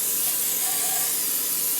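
A steady, close hiss of olive oil spraying from a can into a pan, continuous for the whole moment with no talking.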